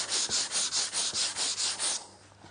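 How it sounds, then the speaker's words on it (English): Rhythmic strokes of 100-grit sandpaper rubbed by hand along the grain of a wooden knife block, about eight loud, even back-and-forth passes close by, then stopping into quiet. "I'm using a 100 grit at the moment."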